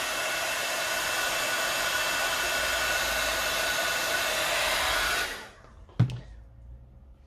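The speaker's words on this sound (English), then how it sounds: "the moment you get the heat tool near them" An embossing heat tool melts chunky embossing enamel, giving a loud, steady, close-up blowing roar that cuts off after about five seconds and is followed by a single sharp knock.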